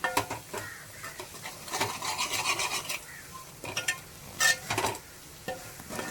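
Curry powder being stirred into a frying tomato and onion masala for an egg curry: close, irregular scraping and rasping strokes of a spoon in the pan over a faint sizzle, with no talking.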